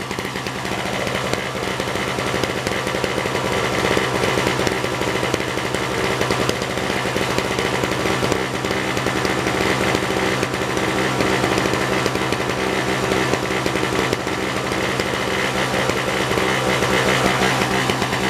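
A 1970s Nova snow blower's small engine runs steadily and loudly for the whole stretch, a rough, buzzing drone with no talk over it.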